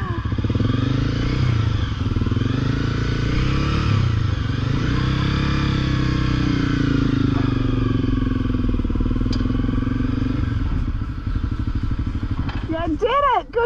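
Motorcycle engine drones and revs steadily as the rider wheelies up a ramp onto a ferry bound for Bruny Island, Tasmania, with clattering from the ramp and a sharp squeal near the end.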